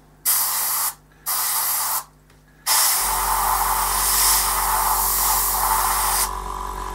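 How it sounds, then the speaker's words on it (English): Paint is sprayed onto a Lynx AH.1 helicopter model in two short hissing bursts, then one long continuous spray over a low steady hum. The spray is close and loud. "you could spray and get this kind of really fine feathered camouflage edge"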